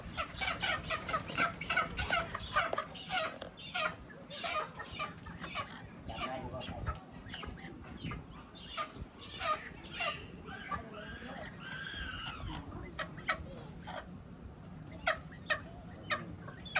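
Chickens cluck repeatedly in a close, busy outdoor setting, with frequent overlapping calls and a soft steady background of ambient noise.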